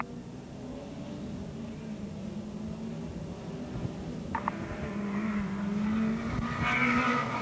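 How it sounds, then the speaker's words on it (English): Midget race cars lap Rockford Speedway in 1981, a steady, close roar of several engines that swells louder near the end, with a short tire squeal as they enter a turn. "Charlie Ford continues to dominate as they enter turn 3"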